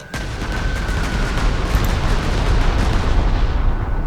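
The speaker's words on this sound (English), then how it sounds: "Well, we're going to bomb him anyway." Bombing attack in the World War II strategy game Panzer Corps 2, set around Riga in 1944: a sudden loud blast that becomes a sustained rumbling barrage of dense explosive booms, steady and close for several seconds with no talking.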